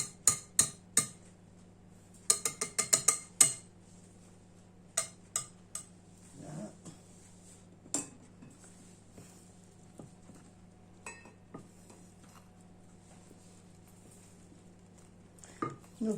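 A metal spoon stirs peas and bacon bits in a dish, giving sparse clinks and taps in small clusters with long quiet gaps and a low steady hum beneath.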